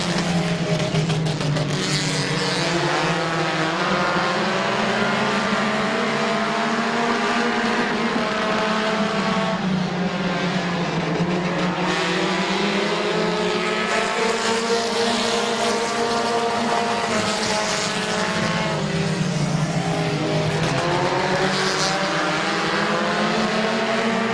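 Race cars lapping the oval at Midvale Speedway, their engines droning loud and steady throughout, rising and falling as the pack passes, with no clear voices over the roar.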